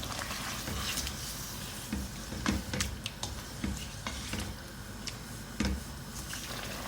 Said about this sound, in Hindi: लहसुन अदरक का पेस्ट डाल के 1 मिनट मैंने इसकी भुनाई कर ली है।